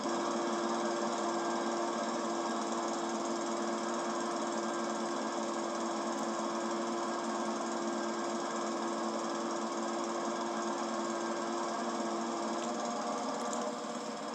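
A poorly performing lawn mower engine drones steadily and loudly throughout while cutting grass, a constant mechanical buzz with no pauses.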